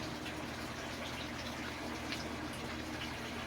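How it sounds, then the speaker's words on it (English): Water pouring steadily onto a potted peperomia plant, a continuous soft gushing splash, faint and even throughout. "And then water the plant."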